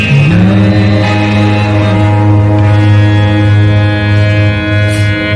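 A long, loud, steady horn-like blast drones for several seconds, rising briefly at the start before holding a deep sustained tone.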